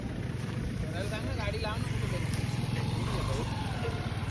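A tempo truck called Bhunga drives past at a Moho ground event, its engine droning steadily and loud throughout, with a crowd and voices murmuring underneath.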